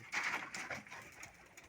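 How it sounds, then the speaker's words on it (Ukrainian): Pigeons cooing nearby in a small Ukrainian town yard, a soft throaty call that swells at the start and then trails off into quieter murmuring. "Де голуби позлізали."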